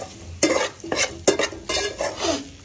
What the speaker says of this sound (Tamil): எல்லாம் ஆடிட்டு ஃப்ளேம் லோவில் வச்சுட்டு நல்லா வதக்கி கொடுத்துடலாம்